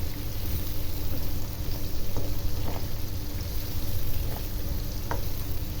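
Carrots sizzle and fry loudly in a pan over maximum heat, a steady close crackle with a few soft scrapes of stirring.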